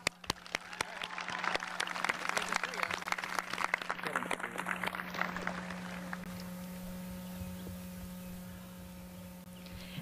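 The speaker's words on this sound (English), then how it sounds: "Let's give them a round of applause" An audience at a high school commencement claps for the people just thanked: a burst of applause that swells in the first seconds, then thins and fades under a steady hum from the venue's sound system.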